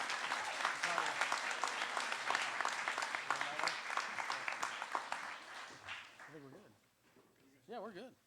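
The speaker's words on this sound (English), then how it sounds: "Please, one more huge round of applause for Ms. Julia Cephas." A crowd at a school varsity athletic awards ceremony applauds loudly for several seconds, the clapping dense and sustained before fading out, with a few voices cutting in near the end.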